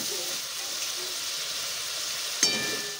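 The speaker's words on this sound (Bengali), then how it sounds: "আমি এর মধ্যে দিয়ে দিচ্ছি জিরের গুঁড়ো, দিয়ে সব কিছুর সাথে একটু ভালো করে মিশিয়ে নিচ্ছি" Ginger paste and cumin powder fry in a pan with a steady, moderate sizzle and hiss, broken near the end by a single sharp scrape of stirring.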